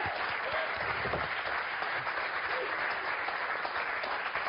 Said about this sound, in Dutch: Geef ze een grote applaus.